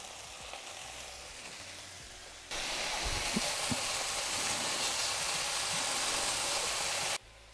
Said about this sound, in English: we're going to cook off our bacon